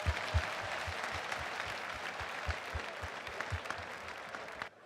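A church congregation applauds Jesus Christ with steady, continuous clapping, a few heavier rhythmic thumps pulsing underneath, before the sound cuts off abruptly at the end.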